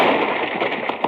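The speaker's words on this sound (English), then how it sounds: "the explosion sends me sprawling out of the cave" A booby trap blows up inside a cave as a radio drama effect: a loud, dense, crackling blast that fills the whole moment, with a couple of sharper pops near the end.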